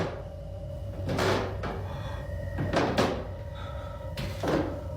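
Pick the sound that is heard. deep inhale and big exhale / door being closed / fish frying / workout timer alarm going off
door being closed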